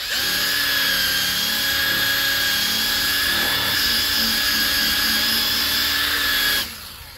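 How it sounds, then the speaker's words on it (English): A small 3-inch rotary polisher whines steadily at close range while buffing scratches out of a 2016 Nissan Armada's paint, a continuous high-pitched motor drone with slight load changes, cutting off just before the end. "it's just a little 3-inch rotary polisher"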